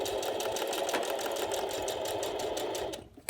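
A sewing machine stitches a seam on a messenger bag using a seam guide, a steady close mechanical whirr with a fast regular needle rhythm that stops abruptly near the end.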